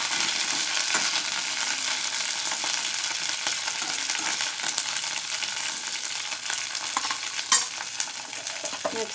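Torn mint leaves, about ten to twelve, frying in a pan for Telugu pudina pachadi, giving a steady, close broadband sizzle with occasional stirring scrapes, no voices.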